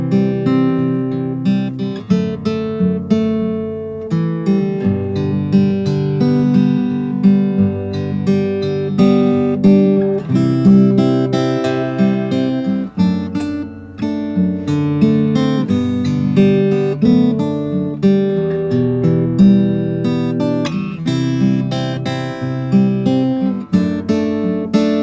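Fingerstyle acoustic guitar plays the bridge section of a song. Plucked chords and picked bass notes fall in a steady, relaxed rhythm, close and clear, with no talking over them.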